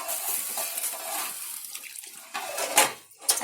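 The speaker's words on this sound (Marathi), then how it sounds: "भांड्यामध्ये पाणी टाकायचं आणि ते पण ओतायचं" Water poured into a cooking pot while making village-style dal dhokli, a splashing rush of liquid with metallic pot clatter, fading and returning in bursts, close and without talk.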